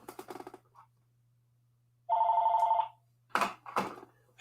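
A telephone bell rings steadily for just under a second, loud and alone, between brief bursts of nearby clatter.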